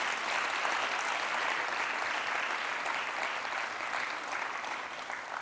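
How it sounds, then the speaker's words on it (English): An audience at a President's Medals scholarship award ceremony applauds young achievers with sustained, even clapping from a crowd that fades slightly toward the end. "I'd like to please give another round of applause to our young achievers this"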